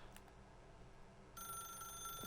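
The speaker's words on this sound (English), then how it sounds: "I thought the phone would stop ringing by now" Telephone ringing in The Stanley Parable video game, a steady electronic ring that keeps going throughout, faint at first and swelling louder partway through.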